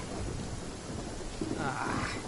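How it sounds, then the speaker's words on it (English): Thunder and heavy rain from a lightning storm in Genshin Impact: a dense, steady roar of rain with a low rumbling swell, continuous and fairly loud. "Uh-oh! Lightning storm!"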